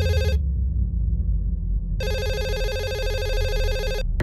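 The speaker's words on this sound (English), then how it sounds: "A few minutes later, the phone rang a third time." A telephone rings in two electronic bursts, a short one then a longer trilling stretch, loud and close, with a low rumble underneath.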